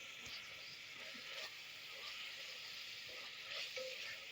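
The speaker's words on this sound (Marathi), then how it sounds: "लसूण अद्रकची पेस्ट टाकून घेतल्यानंतर छान अशी परतून घ्यायचंय त्याला व्यवस्थित." Garlic ginger paste sautéing in a pan for biryani, a steady close sizzle and crackle with faint stirring scrapes throughout.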